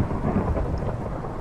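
Low, rolling thunder from a storm outside rumbles steadily and loud, layered over a constant wash of falling rain.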